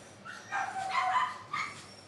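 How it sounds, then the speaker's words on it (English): A female puppy at a dog boarding house yaps during quiet time, giving a few short, high barks at moderate distance, fairly faint and with no talking. "She likes to bark and play with other friends if she can hear them."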